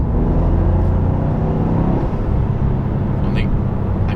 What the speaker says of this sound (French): On est à 4000 tours et la sonorité se fait sentir